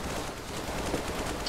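Rapid gunfire in the game Decaying Winter, a dense continuous rattle of shots for a second and a half, loud and close with no pause.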